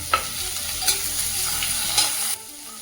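Onion and chopped capsicum sizzle steadily in a pan while a spoon stirs them, with a few sharper scrapes; the frying noise stays loud and close, then drops away abruptly near the end.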